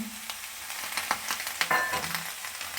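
Green chilies hit hot oil in a frying pan, giving a steady close sizzle with scattered stirring clicks and scrapes, no voices.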